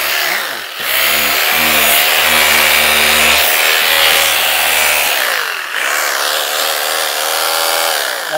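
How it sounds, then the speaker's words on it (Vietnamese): A hand-held hammer drill runs in chisel mode with a loud, steady motor buzz and rapid rattling hammer action, held continuously for several seconds with one brief dip in speed. "Đây là chức năng đục."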